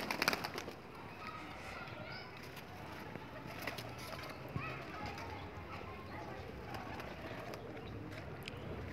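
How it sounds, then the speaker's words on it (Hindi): Pigeons cooing after being scattered grain, soft throaty coos repeating over a steady outdoor background with occasional clatter, while people talk nearby. "अब हाथ धो के कबूतरों को दाना डाल दिया है"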